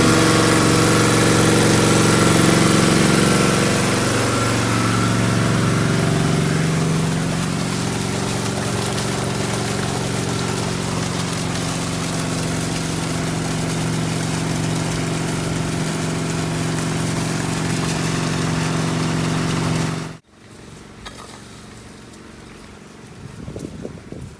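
A water pump engine runs steadily in a cornfield where corn is being planted and irrigated, a loud, close, continuous drone with vibration that cuts off abruptly near the end, leaving quiet outdoor ambience.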